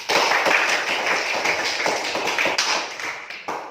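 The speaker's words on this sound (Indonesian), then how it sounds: "Tepuk tangan dulu buat Nova." A classroom of students applauding a classmate during a lesson, dense close-up clapping that runs steadily throughout with no talk over it.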